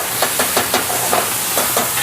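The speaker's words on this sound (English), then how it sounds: "And now we're back to the oil and ginger and garlic while we're stir frying." Vegetables and tofu stir-fried in hot oil with ginger and garlic give a steady sizzling hiss, broken by a quick run of scraping stirs every few tenths of a second, up close with no talking.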